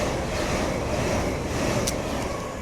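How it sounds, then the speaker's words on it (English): An LNER Azuma train passes through Newark Northgate station on the East Coast Main Line, a steady loud broadband roar of wheels and rushing air that holds throughout with a brief high squeal near the end. "Pass through now is another LNER Azuma."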